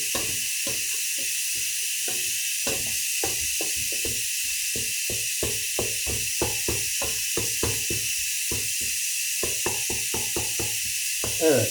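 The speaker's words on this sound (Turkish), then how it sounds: "Bakın yağım bıcırdamaya başladı" Oil sizzling in a pan with onion and tomato paste for a tas kebab stew, a steady bright hiss punctuated by rapid irregular crackles and pops throughout.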